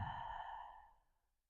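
A single soft, drawn-out exhale during a gentle yoga session for spinal health, airy and close, tapering into quiet over about a second with no talk.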